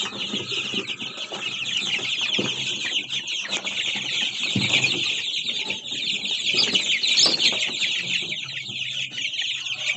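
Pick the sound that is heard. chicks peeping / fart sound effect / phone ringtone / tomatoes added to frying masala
chicks peeping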